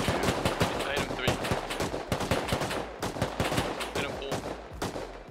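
Gunfire in the survival video game Rust, with rapid bursts of automatic shots cracking in quick succession across the whole stretch, loud and close, with brief gaps between volleys.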